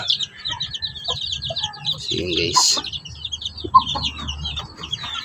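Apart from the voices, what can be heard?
chicks and mother hen clucking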